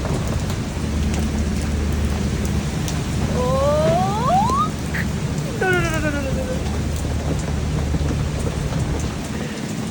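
A heavy rainstorm with thunder in Lahore: a dense, constant roar of downpour with a low rumbling undertone, and a few chirping calls rising briefly above the rain midway through.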